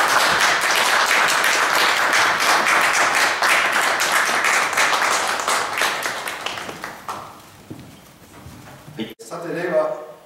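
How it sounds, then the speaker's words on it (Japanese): Audience applause at a ceremony appointing the new Miss Otaru and handing over from the previous pair, a dense burst of clapping for several seconds that fades out, followed by a sharp click and a little clatter. "どうぞ皆様拍手で。"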